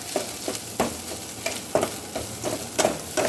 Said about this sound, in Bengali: একটু নাড়িয়ে দেবো, বেশি না।